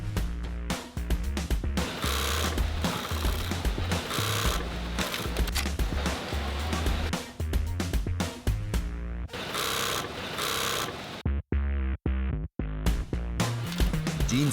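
A sewing machine runs steadily, stitching a coin pocket onto jeans fabric. The motor whirs continuously at close range, with a few short stops near the end.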